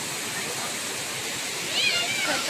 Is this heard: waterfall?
yes